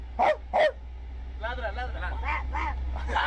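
A person imitates a dog with two short, sharp barks, then talks.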